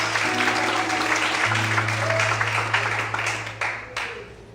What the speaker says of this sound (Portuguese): Mais forte as palmas ao Senhor